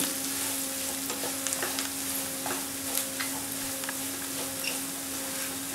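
Liver frying in a pan with chilli powder, a steady close sizzle running the whole time with scattered small pops and stirring clicks, no talking.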